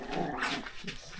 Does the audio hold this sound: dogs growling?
yes